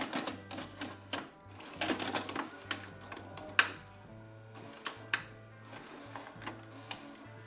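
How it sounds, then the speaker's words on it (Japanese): A VHS/DVD combo video deck starts tape playback with a series of mechanical clicks, whirs and clunks, accompanied by a low intermittent motor hum; fairly quiet and close, with no talking. "それではテープを再生していきたいと思います。"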